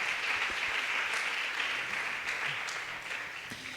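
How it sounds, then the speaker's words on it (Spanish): A church congregation applauds the Lord during a Sunday sermon, a steady, fairly soft wash of many clapping hands that holds evenly for several seconds, heard from some distance. "Dale ese aplauso al Señor."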